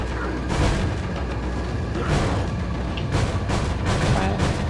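Hand grenade blasts in Resident Evil 4 come through as a few heavy booming bursts spread across the stretch, fairly loud, over continuous game noise.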